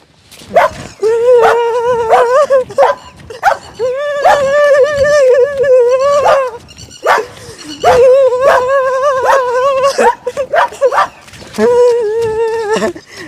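A dog barks repeatedly in loud, close bursts, with short pauses between volleys and a few higher yelps mixed in.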